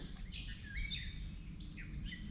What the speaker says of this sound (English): There's a few birds there.